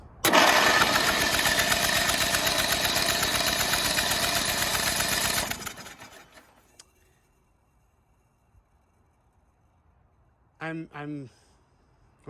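A rusty, rotted Craftsman LT2000 lawn tractor engine cranks and runs loudly on a booster pack for about five seconds, then cuts off into near silence before brief nearby talk.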